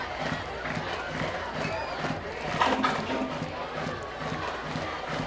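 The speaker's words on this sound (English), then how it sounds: "got this Destrehan crowd fired up early." Destrehan home crowd at a high school football game against Woodlawn: a dense, sustained roar of cheering and shouting from a stadium crowd, swelling briefly midway, with a voice talking over it.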